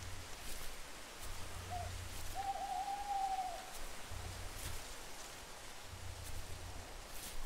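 An owl hoots outdoors near a campsite with a parked car and a tent, one drawn-out call rising and falling mid-clip over a steady background hiss like light rain, with low rumbles coming and going.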